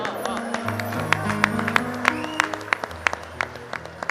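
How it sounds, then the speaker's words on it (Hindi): A small audience at a Hindi comic poetry recital claps in a scattered, uneven burst of applause, individual claps standing out over low murmuring voices. "तो ताली बजा दो एक बार।"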